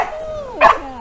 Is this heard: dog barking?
yes